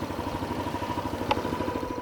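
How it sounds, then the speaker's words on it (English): A Hero Xoom 160 maxi-style scooter engine runs at idle with an even, low, rhythmic thrum, close and moderately quiet, with a faint brief tick partway through and no voices. "Let's start with how this engine sounds."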